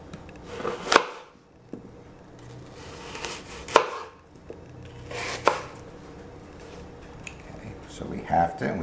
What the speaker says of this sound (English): We want to take the skin off and then we're going to slice it in